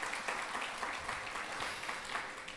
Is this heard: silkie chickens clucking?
no